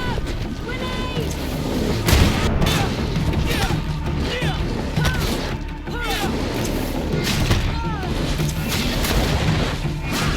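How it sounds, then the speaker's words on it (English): A grenade blast and heavy combat in GreedFall, with sharp booming impacts and crashes scattered across a dense, loud battle mix, shouted voices heard over the fighting. "Watch out! Grenade!"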